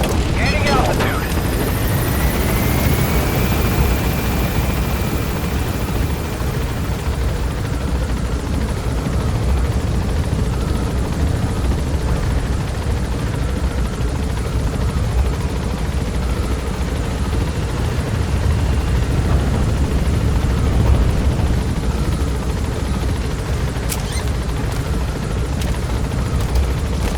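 A helicopter in Metal Gear Solid V: The Phantom Pain gains altitude with a loud, steady rotor and engine roar that holds constant and close for the whole stretch, with no break.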